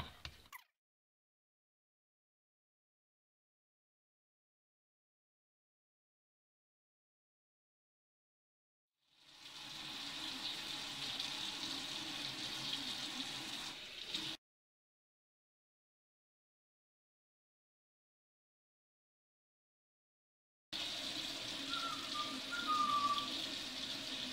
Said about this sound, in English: Why don't I go ahead and do a hand wash test while I'm at it?